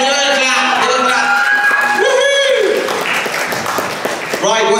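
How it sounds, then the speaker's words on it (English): Festival audience at MAC Fest 2024 in Bury claps in a steady wash of applause, loud and close, with voices and shouts mixed in throughout. "Come on guys, give it a clap, give it a clap"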